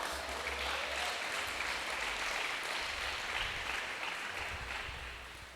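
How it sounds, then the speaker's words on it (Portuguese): Faint, steady applause from a congregation at a church celebration service, a soft continuous patter of many hands heard from a distance, with a low rumble underneath and fading out toward the end. "Você pode aplaudir Jesus?"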